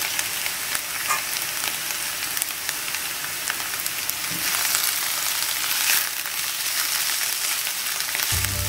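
Onions frying in a pan for a Goan chicken masala curry, giving a steady, close sizzle with fine crackling that holds at an even level throughout, with no talking.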